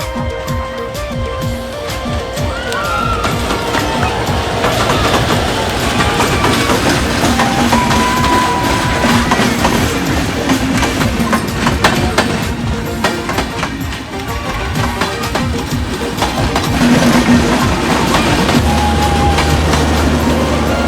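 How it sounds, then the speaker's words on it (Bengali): A train rolls past on a railway line, close and loud, with continuous rumbling and rhythmic clickety-clack of wheels over rail joints lasting the whole stretch. "ও দেখ ট্রেন আইতাছে"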